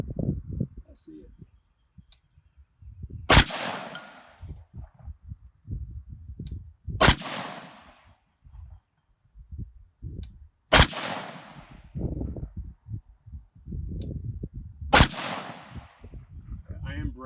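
Four sharp, loud gunshots spaced several seconds apart ring out during a live-fire range test of a beehive barrier, with people talking between the shots.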